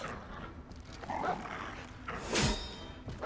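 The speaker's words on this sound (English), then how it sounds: "Dog." A dog barks and whimpers in a fantasy role-playing video game, a few short yips and a louder bark in the middle of faint background game sound.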